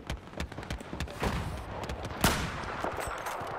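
Gunshots in Battlefield 4 multiplayer, with scattered sharp reports and one louder close shot amid ongoing distant battle noise.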